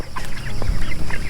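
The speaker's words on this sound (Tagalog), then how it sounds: "May manok sa labas." Several chickens cluck close by in short, overlapping bursts over a rough background hum.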